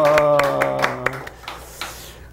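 A church congregation claps together during a service, sharp hand claps in an irregular run that thins out and fades, over the tail of sustained tones from a held note or organ.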